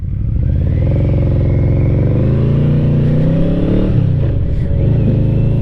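A Yamaha Vmax motorcycle pulls hard through its gears, the engine loud and close as it revs up, drops briefly at a shift, then climbs again.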